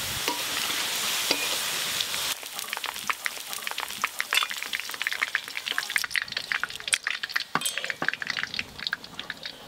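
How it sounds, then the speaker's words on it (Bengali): Onions frying in a pan until deep red-brown for chicken biryani: a steady crackling sizzle with scraping stir strokes and sharp pops, close and fairly loud throughout, no talking. "পেঁয়াজ খুব লাল লাল করে ভাজা হয়ে গেছে,"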